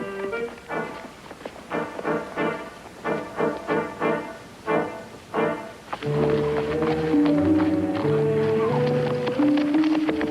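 A horse gallops away in a Western setting, its hoofbeats coming in quick rhythmic bursts, loud and close at first, then giving way to a swelling orchestral score.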